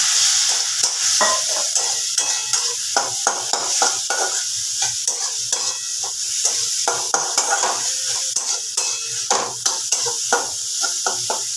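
Spice masala sizzling in a pan after a splash of water, with a continuous fry hiss broken by frequent rhythmic scrapes and taps of a spoon stirring against the pan, close and clear, no talking.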